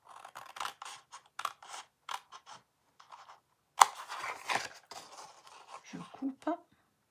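Scissors snip through paper in a series of short crisp cuts, close and clear, with a few pauses between them and someone talking in French between and over the cuts.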